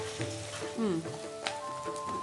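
Food frying in a pan with salt and chili powder added, a steady sizzle heard close up. A voice and some background tones sit over it at moderate level.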